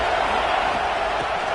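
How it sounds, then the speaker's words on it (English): A stadium crowd in a college football video game roars steadily, a dense, loud wash of cheering that holds at an even level for the whole short stretch. "this crowd is turning it up a notch"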